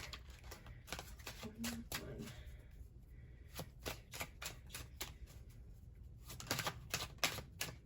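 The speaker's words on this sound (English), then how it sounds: "Let me just shuffle up the tarot cards really quick." Tarot cards being shuffled close by, a series of quick papery riffles and taps in an uneven rhythm, with faint voice traces in between.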